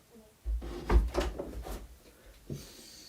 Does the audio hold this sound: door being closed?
yes